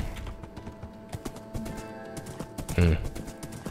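A horse in Minecraft: soft, irregular hoof clip-clops and shuffling steps, ending in a short, louder snort or whinny near the end, with faint game ambience and no talk.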